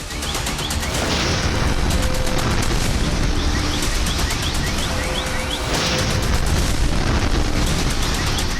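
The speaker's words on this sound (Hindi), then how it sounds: "हूती के इस ड्रोन हमले की दूसरी तस्वीरें देखिए, जो धमाके वाली जगह के करीब सीसीटीवी कैमरे में रिकॉर्ड हुई" A Houthi drone blast on a Tel Aviv street at night, picked up by a nearby CCTV camera: a sustained, harsh roar of loud explosive crackle with repeated bursts, low-fidelity and saturated throughout.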